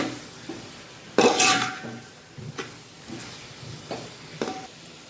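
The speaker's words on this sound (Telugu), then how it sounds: "నిమ్మరసం పెరుగు కొత్తిమీర ఒకసారి కలుపుకోవాలి" A spoon stirs lemon juice, curd and coriander in a metal pot, giving a sharp scrape and clatter followed by several lighter taps and scrapes against the rim over a quiet background.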